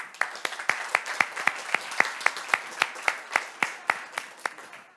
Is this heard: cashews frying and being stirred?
no